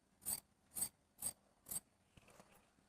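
Scissors snip through chudidar sleeve cloth four times in an even rhythm, each cut crisp and close, followed by softer fabric rustling and handling with no talk.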